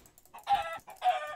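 A chicken in a blocky Minecraft-style game clucks twice in short bursts, a little distant, with faint background sound between the clucks.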